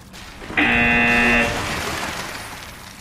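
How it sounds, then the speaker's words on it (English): A harsh electronic buzzer in the game Horizon Zero Dawn sounds once, loud and steady for about a second, then cuts off, leaving low ambient game noise. "There's a buzzer buzzing me to move along."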